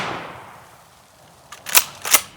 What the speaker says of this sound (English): And if you hear gunfire in the background